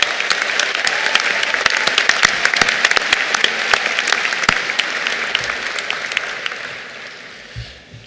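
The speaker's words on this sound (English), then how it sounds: "let's give our teachers and our staff a round of applause" A high school graduation crowd applauds teachers and staff, loud, dense clapping with sharp individual claps standing out, fading away over the last second or two.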